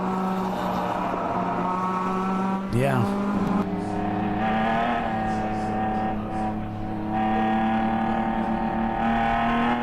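A race car circulating on a road course during an endurance race, engine held at a steady moderate drone with a brief squeal and shift partway, heard under commentary.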